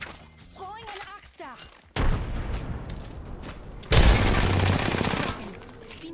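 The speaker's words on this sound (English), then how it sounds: "Oh, I missed every shot." Video game gunfire with grenades and an axe in play: a loud burst of shots rings out, then a second heavier volley of rapid booming fire, with voices chattering beforehand.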